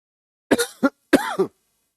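Two short, throaty coughing bursts, close and clear, separated by a brief pause, with silence around them.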